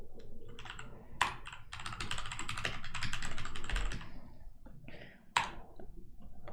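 Rapid typing on a loud mechanical computer keyboard, a dense clatter of keystrokes in quick bursts with occasional sharper heavy key strikes, close to the microphone with no talking.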